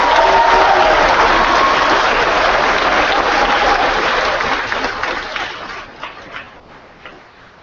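A school assembly audience of students and staff applauds visiting Canadian Olympians, a dense, loud wash of clapping in a large hall that holds steady and then tapers off into scattered claps.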